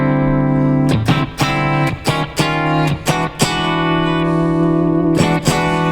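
Electric guitar through a clean amp channel with the contour knob turned down, sustained chords ringing with sharp strummed attacks at irregular intervals, loud and close.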